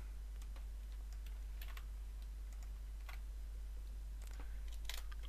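Typing on a computer keyboard while editing LaTeX text: sparse, faint key clicks and taps over a steady low electrical hum, with a small cluster of quick strokes near the end.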